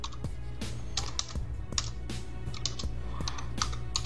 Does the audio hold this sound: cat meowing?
no